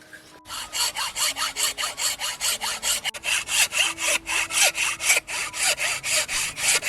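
A hand saw with its teeth set for push cutting cuts through hard wood in steady, regular back-and-forth strokes, each rasping pass close and distinct, keeping an even rhythm throughout.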